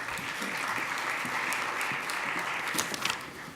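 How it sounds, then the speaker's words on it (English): Steady audience applause fills a conference hall as a speaker is introduced, dense and sustained clapping throughout with no break. "Round of applause."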